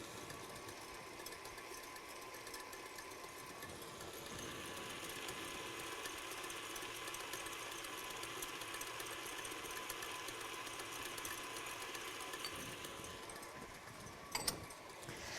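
An electric stand mixer whips egg whites and sugar for French macarons in a kitchen, a steady whirring motor hum held for a long stretch with a brief clatter near the end and no talking.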